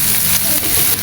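Onions frying with prawns in a pan give a continuous loud hiss and sizzle, close and steady, with no talk over it.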